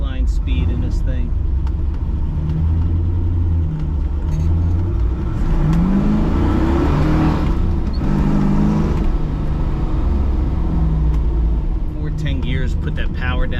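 A 1970 Chevrolet Camaro Z28 RS with a four-speed manual pulls hard in a straight line, its V8 rising through revs as the gears climb, heard from inside the car with a voice talking over the engine.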